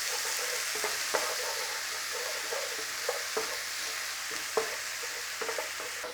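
Chicken bhuna curry fries in a pan with a steady, close sizzle, broken by occasional scraping knocks as a paddle stirs it.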